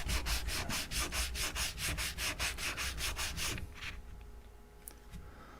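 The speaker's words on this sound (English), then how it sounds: "Let's try to get this a little more sand action." A guitar nut being sanded back and forth on a workbench, a steady rhythmic rasping of about fifteen close, even strokes that stops partway, followed by quiet room tone.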